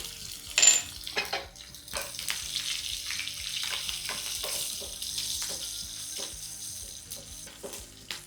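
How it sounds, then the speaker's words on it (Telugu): Garlic, mustard seeds and cumin frying in hot oil for an Andhra-style cucumber dal tempering, a steady crackling sizzle with sharp pops and a few stirring scrapes, close and alone without voices. "వెల్లుల్లి మంచిగా వేగాలి కాస్త కలర్ రావాలి"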